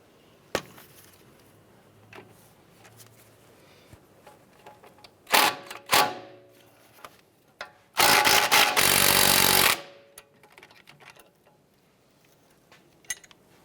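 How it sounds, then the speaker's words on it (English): Tools working on the sway bar end link of a 2010-2016 Cadillac SRX: a 6mm Allen wrench and an 18mm wrench, with a few sharp knocks and scrapes, then a loud sustained rasping burst, near and otherwise quiet. "Using a 6mm Allen wrench and an 18mm wrench, we're going to go ahead and remove the upper part of the link here."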